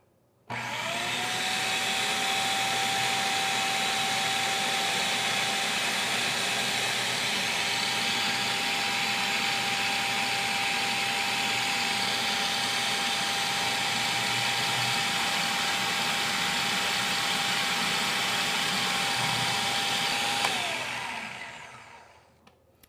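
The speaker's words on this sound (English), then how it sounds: "we're going to add this pre-measured olive oil into the food processor as it's running." A food processor runs steadily at full speed for about twenty seconds while olive oil is poured in, a loud even motor whine that then spins down to a stop.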